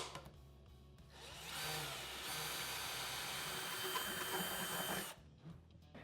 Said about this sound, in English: we're just gonna do the same drilling process we did on the first box